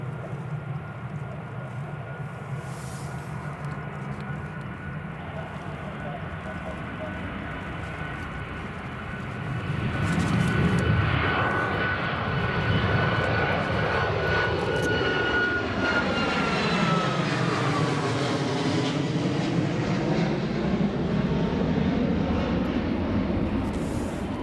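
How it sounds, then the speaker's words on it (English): A Ryanair airliner takes off at Newcastle Airport during a wet, windy storm, its engine roar swelling from a steady distant rumble to a loud, sustained surge with a falling, shifting tone as it climbs away. "It's Ryanair Airborne."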